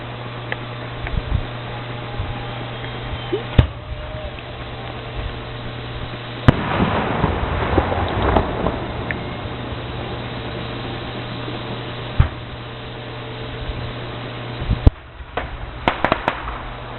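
Canada Day fireworks burst over Bridgetown, Nova Scotia in 2006, scattered thuds and pops spread across the clip with one louder crackling burst near the middle, heard from a distance over steady background hum.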